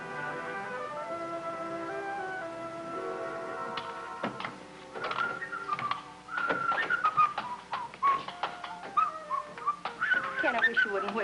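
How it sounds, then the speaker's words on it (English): A man whistles a tune indoors, clear sustained melodic notes that give way to clattering and household clinks as the whistling continues in short phrases. "I wish you wouldn't whistle in the house"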